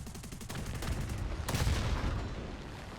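Aircraft guns on a Ki-61-I otsu fighter in the War Thunder video game fire in a rapid, sustained burst of loud bursts over a constant engine roar, then fade.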